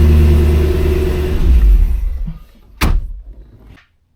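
A Chevrolet C6 Corvette engine cranks and catches with a sharp burst, then settles briefly before cutting off, preceded by a steady low rumble and a thud.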